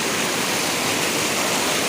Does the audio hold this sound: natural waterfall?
yes